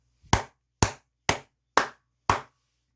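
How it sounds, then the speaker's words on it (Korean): Five loud, crisp hand claps sound one after another at an even, deliberate pace, each sharp strike ringing briefly in an otherwise silent room. "너무나 좋은 소식이기 때문에 크게 박수 한번 치고 가도록 하겠습니다"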